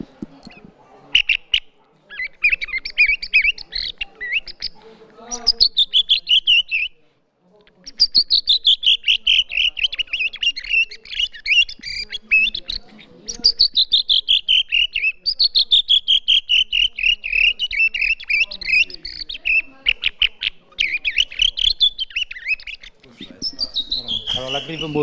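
A person whistles a long imitation of a redwing call, a run of bright sliding notes and quick trills, nearly continuous with a short break, close and clear.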